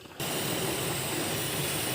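A pressure cooker whistles steadily with a loud, continuous steam hiss while a homestyle duck curry cooks, starting abruptly and holding for about two seconds with no speech.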